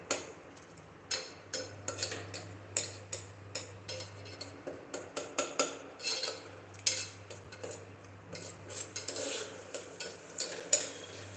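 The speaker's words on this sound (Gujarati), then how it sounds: "આવી રીતે ગળી જાય એટલે તમારે આને મેશ કરી દેવાનું ચમચા વડે" A spoon taps and scrapes repeatedly against a pot, mashing soft cooked potatoes in an irregular rhythm, with a steady low hum underneath.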